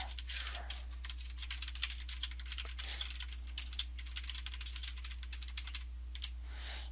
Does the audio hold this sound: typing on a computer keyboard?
yes